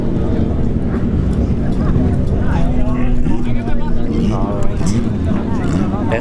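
Engines of a 97 Mustang and a Scat Pack Challenger at a street drag race, a dense steady roar with rising engine tones throughout, heard with crowd or announcer voices over it.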